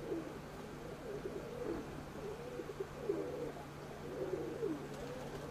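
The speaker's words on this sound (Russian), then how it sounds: "Погнал голубей." Pigeons cooing softly in a repeated low rhythm outdoors on a cold sub-zero day as they are sent up to fly, steady and moderately close with a constant low hum beneath.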